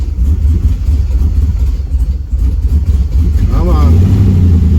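An old fuel-injected plow truck that has sat for about 20 years has its engine turning over and running, a loud low rumble with a brief rising whine near the end, heard under a voice.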